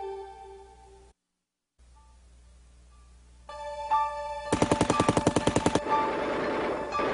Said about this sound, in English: fighting with a new weapon, the Tommy gun